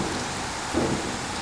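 Heavy outdoor rain pours in a steady, dense broadband roar, close and loud, with a short swell of louder spattering midway through.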